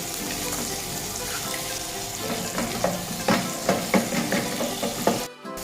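An egg fries in a hot wok for Penang char koay teow, giving a steady loud sizzle throughout with scraping and stirring clatters rising in the second half.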